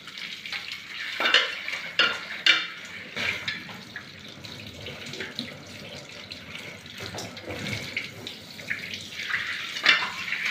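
Tap water runs steadily over a scrubbed, blackened kadai being rinsed clean in a kitchen sink, with splashing and clattering metal handling sounds rising and falling through the rinse.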